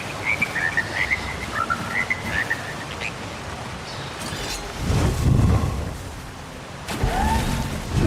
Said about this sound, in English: My beautiful frogs! They've come home! Such beautiful music!